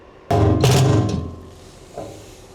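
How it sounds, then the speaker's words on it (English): Sheet metal screws being driven to mount a fuse in a DIY electric truck build on a 1982 Toyota pickup: a short, loud whirring burst from a power driver lasting under a second, then a faint brief follow-up buzz. "I'm just going to throw the fuse in with some sheet metal screws here."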